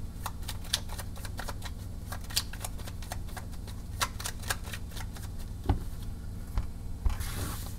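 Cards being shuffled for a card reading, giving a dense run of crisp flicks and riffles close by over a steady low hum, with a few soft knocks toward the end and no speech.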